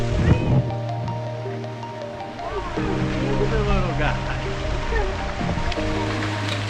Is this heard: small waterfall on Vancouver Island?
yes